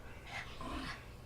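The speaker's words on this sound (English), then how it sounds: "That's my other dog, Beans." A dog panting softly close by, a short burst of quick breaths over a quiet background with no talking.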